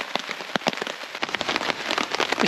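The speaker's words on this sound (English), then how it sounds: "This wind and rain's kicking my arse everywhere." Rain patters and spatters in irregular bursts against a nearby surface during a storm at a campsite, with gusty buffeting in close, wet, uneven bursts.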